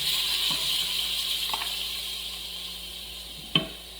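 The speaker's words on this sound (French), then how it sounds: "je vais faire cuire les oignons d'abord je vais faire revenir dans l'huile" Onions frying in oil in a pan, a steady close sizzle and hiss throughout, with a couple of soft stirring knocks and a sharper clink near the end.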